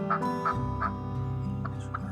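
A series of short, nasal clucks and yelps from a hunter's turkey call, repeated in a quick uneven rhythm over a low humming background.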